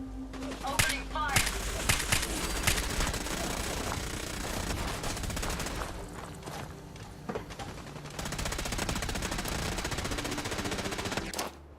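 Rapid, dense gunfire from a Fallout 4 battle, with sustained automatic bursts and scattered single shots. The shooting is loud and close and runs almost without a break, with a brief lull midway.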